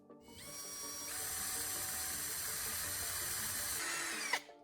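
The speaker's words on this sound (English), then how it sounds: "Drill a second hole from the side so it meets the first hole at a right angle." A power drill bores a hole into the side of a wood block, a steady whirring whine that holds for about three seconds before winding down, with no voices.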